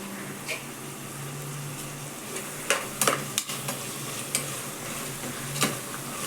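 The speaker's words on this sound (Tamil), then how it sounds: "நல்ல எண்ணெயில் வதக்கி விட்டு கூட கொஞ்சம் கொத்தமல்லி புதினாவும் போட்டு மிக்ஸ் பண்ணி விட்டுணும்" Rice sautéed and stirred in sesame oil with coriander and mint, a steady low sizzle under repeated scraping strokes of a spoon against the pan, close and fairly quiet with no talking.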